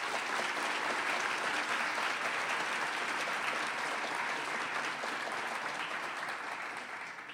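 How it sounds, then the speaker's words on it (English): A warm, steady round of applause from a City Club audience at a civic gathering, loud and continuous clapping that holds evenly throughout and tapers off only slightly in the final moments. "Please join me in a warm round of applause for all of them."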